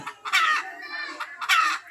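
A hen clucks in short bursts, a few close, throaty clucks with a brief higher cackle between them, no talking.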